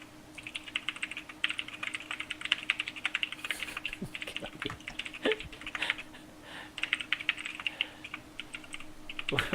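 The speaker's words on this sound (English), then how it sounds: "What are you typing?" Rapid clatter of typing on a computer keyboard, uneven bursts of keystrokes running throughout at close range over a faint steady hum, with no talk.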